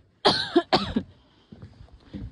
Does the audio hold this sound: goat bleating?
no